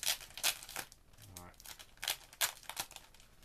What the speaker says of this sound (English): Plastic sleeve.